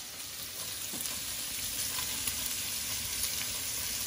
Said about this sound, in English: we got our bacon really nicely melting over here on the pan, so we can add some onions